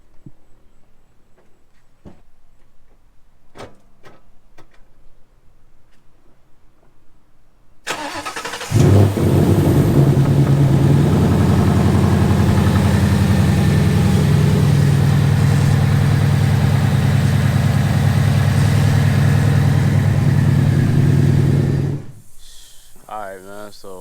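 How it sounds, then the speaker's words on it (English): A Ford Mustang GT fresh from an oil cooler install and oil change cranks and fires after several quiet seconds, then settles into a loud, close, steady idle before cutting off near the end. "Alright, so we're gonna start the car up now."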